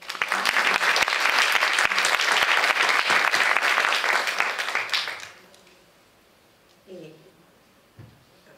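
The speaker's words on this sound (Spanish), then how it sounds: "Un aplauso para Oris." An audience at a ceremony for the International Day of Women and Girls in Science applauds loudly for about five seconds. The clapping then fades into a quiet room with brief faint sounds.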